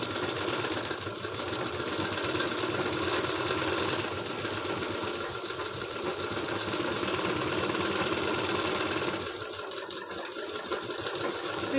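A sewing machine stitches around a blouse neck, running a fast, steady mechanical patter nearly without pause and easing slightly near the end.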